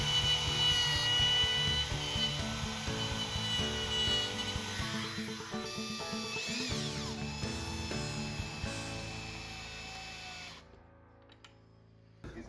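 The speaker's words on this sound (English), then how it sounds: "Router out the space and make it ready for the hinge plate." A router cuts wood to make space for a hinge plate on a hidden bookcase door, a loud steady whine with shifting tones as it works, then stops and spins down near the end.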